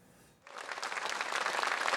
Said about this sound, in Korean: 여당 의원들만 박수를 칩니다